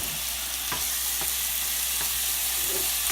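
Onions, bell peppers and garlic sizzle steadily in a pan as a continuous close frying hiss, with a few soft stirring knocks.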